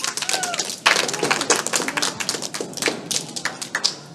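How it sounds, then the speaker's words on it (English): Audience members at a school festival of ideas event clap in a busy, uneven burst of sharp, close hand claps that thins toward the end. "Let's clap for Jhett."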